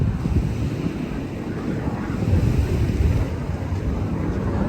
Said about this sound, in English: F-16s flying over me here. Man, they are loud.